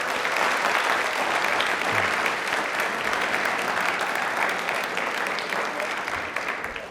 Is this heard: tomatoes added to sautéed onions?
no